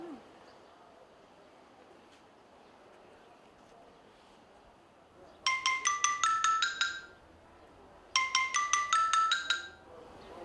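A phone rings in two bursts of rapid, bright electronic trills, each lasting about a second and a half, after a quiet stretch of room tone.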